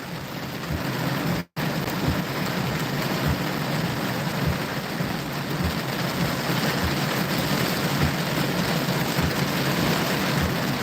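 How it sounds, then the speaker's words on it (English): Heavy storm rain pounds a car during a live storm chase, a dense, steady roar of drops close by with a faint repeating low thump and one brief cutout near the start. "Ooh, good thunderstorm."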